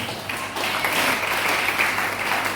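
A church congregation claps together after a scripture reading, a steady broad wash of applause that holds at even loudness throughout, fairly close and filling the room.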